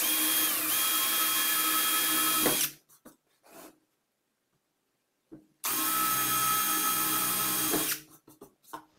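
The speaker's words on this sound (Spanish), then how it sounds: "utilizar una broca para maderas como esta que ves por acá, que te va a permitir hacer centro fácilmente y proceder a perforar" A power drill fitted with a wood bit bores through MDF for a shelf, two loud close bursts of steady whining drilling, each ending with a few short clicks and pauses.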